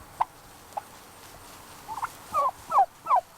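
Farm turkeys, raised alongside broiler chickens, give a few short calls followed by several louder, wavering gobbles in quick succession.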